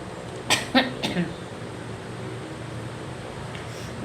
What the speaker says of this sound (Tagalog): May kunting ubo ako